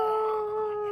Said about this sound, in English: That's the howl of the wild.